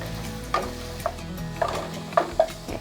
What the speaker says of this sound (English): I'm just going to drop that onion and let that cook down with my sausage.